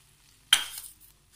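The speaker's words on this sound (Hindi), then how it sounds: "अभी मैंने 2 टेबल स्पून मक्खन और छोटी सी प्याज और 2 हरी मिर्चें फ्राई करके आपके सामने बघार दिया है" A hot tempering of butter, fried onion and two green chilies hits the chicken with one sudden loud sizzle that fades over about half a second, in an otherwise quiet kitchen.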